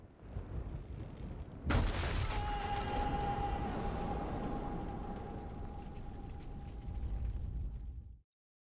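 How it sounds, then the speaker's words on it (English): A sudden loud blast bursts out in the WWI video game 11-11 Memories Retold, followed by a sustained rumbling roar with a steady ringing tone that carries on for several seconds before cutting off. "I survived, and I thought I'd heard gunshots."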